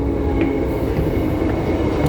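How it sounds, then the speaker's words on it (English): A Transperth train arriving at Oats Street station in Perth, a loud, continuous low rumble and rolling wheel noise close by, with faint metallic squeals over the top and no voices. "I heard the Cockburn train just arrived"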